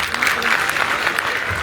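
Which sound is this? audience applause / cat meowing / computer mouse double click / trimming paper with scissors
audience applause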